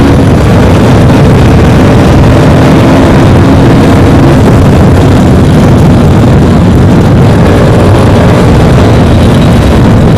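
A KTM Duke 200 and a Hero Splendor drag race side by side, their engines making a loud, continuous, close-up drone that holds steady throughout with no voices.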